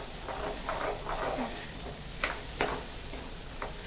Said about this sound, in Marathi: छान हलवून घेते. तेल सुटेपर्यंत हे जे सगळं आहे हे परतून घ्यायचंय.